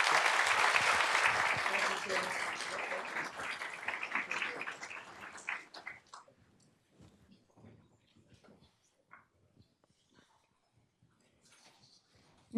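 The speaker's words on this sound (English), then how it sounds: "Can we please give them another round of applause?" A school board business meeting audience gives a round of applause, loud and dense at first, then thinning out into scattered claps and quiet room noise.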